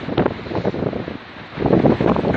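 Strong gusts batter the microphone on an exposed hilltop at Whinlatter, roaring in loud, uneven surges with a brief lull in the middle.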